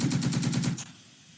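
Light machine guns fire in the Second Front video game: a rapid, steady stream of close, punchy shots for under a second, then it cuts off into quiet.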